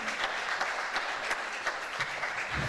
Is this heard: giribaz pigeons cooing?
no